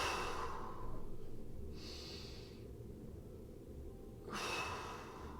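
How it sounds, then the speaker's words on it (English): Deep, slow breaths during an exercise workout, two long airy exhales separated by a quiet pause, close and fairly soft with no talking. "2 more big breaths here"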